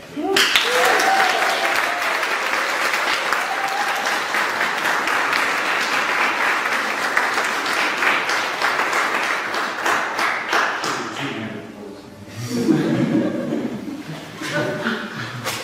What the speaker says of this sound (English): An insane applause for Tim Head.